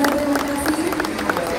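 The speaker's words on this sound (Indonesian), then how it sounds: "Boleh kita berikan tepuk tangan yang begitu luar biasa." Audience applause at a stage event fills the whole moment, a dense steady wash of clapping and crowd noise with a voice speaking over it.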